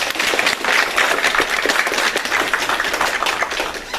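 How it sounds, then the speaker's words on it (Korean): Applause from a congregation at a Korean church Sunday worship service, a dense sustained wash of clapping hands lasting the whole moment, fairly loud and close. "귀한 찬양 감사한데 우리 격려의 박수 받아주시겠습니다"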